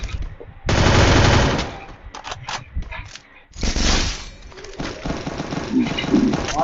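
Gunfire in a battle royale video game: loud bursts of rapid automatic shots and scattered single cracks, with pauses between volleys and a voice speaking in between.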